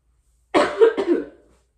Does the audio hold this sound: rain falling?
no